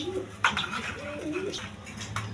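A breeding pair of sky-blue Gorra pigeons coo in soft, repeated throaty phrases close by, with a faint background murmur and a brief clatter near the start.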